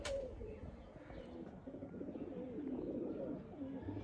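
Pigeons in a kabootar bazi flying pair setting cooing softly and steadily, low and fairly close, with faint background noise and no talk over it.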